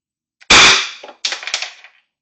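A Beeman BP-50 air pistol fires a single Delrin projectile: one sharp, loud crack with a short ringing tail, then a fainter clattering echo about a second later.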